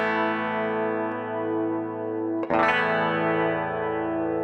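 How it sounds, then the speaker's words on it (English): Electric guitar running through the chorus effect of an MXR Rockman X100 pedal: a sustained, shimmering chord rings out, then a fresh strummed chord takes over midway and holds steadily with no talking. "So it has a chorus here. You can hear the chorus."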